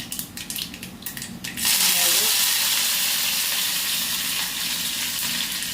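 Dried red chillies and curry leaves hit hot oil and burst into a loud, steady sizzle that carries on alone after a few brief clatters at the start.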